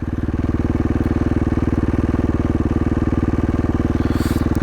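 A 2016 KTM 450 XCF motorcycle engine, warmed up, idles close by with a loud, steady, rapid thumping pulse that barely changes throughout.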